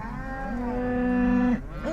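A single cow on a road gives one long, loud, sustained moo that holds steady before breaking off abruptly, with a slight trailing grunt.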